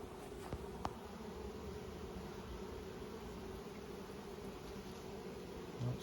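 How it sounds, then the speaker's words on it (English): Honey bees crawl over a hive frame, making a faint, steady hum that continues throughout, with a soft tap or two early on and no voices. "A good little bunch of bees right here"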